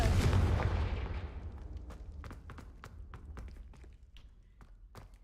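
A Confringo fire spell cast in Hogwarts Legacy bursts with a loud blast that decays over about two seconds, followed by scattered sharp crackles and pops; a voice speaks briefly.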